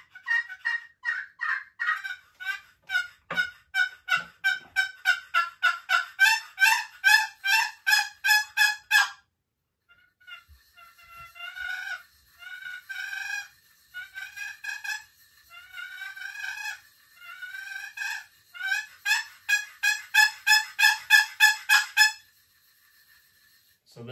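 Turkey calls from Phelps Game Calls are worked close up, producing long runs of rapid, evenly spaced yelps and clucks that rise and fall in loudness, with a brief pause midway before another series of yelps.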